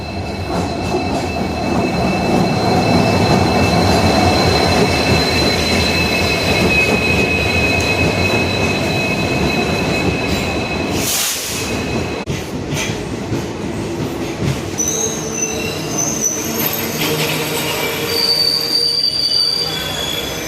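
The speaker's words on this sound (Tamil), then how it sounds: "நம்ம ட்ரெயின் வந்துருச்சு twenty minutes டிலேவில் Ramanathapuram station platform number ஒன்றுக்குள்ளே enter இருக்குது" A train rolls into platform one at Ramanathapuram station with loud, sustained wheel squeal and rumbling, wheels clacking and screeching as it slows nearby.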